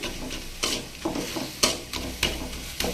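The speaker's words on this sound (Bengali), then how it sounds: "এবার লাল শাকটা চামচ দিয়ে কেটে কেটে দিচ্ছি।" A spoon chops red amaranth greens in a pan, with a soft ongoing sizzle broken by about six sharp scraping taps at an uneven rhythm, close by.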